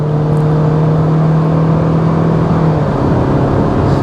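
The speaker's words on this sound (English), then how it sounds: "here's the CVT sound for you." Toyota C-HR with a CVT transmission accelerating, a steady engine drone with a rising whine and a subtle shift-like change near the end, heard from inside with no talking.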